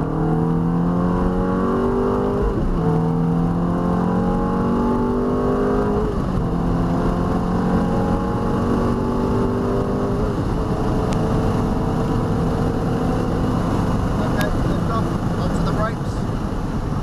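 A Ferrari F430 on a test track repeatedly accelerates, its engine rising in pitch through several gear changes with a loud, close, in-car roar, while an instructor speaks over it.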